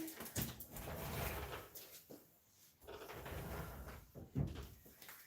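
A door is handled nearby, with a few knocks and thumps as it opens and shuts, set among scattered household clatter.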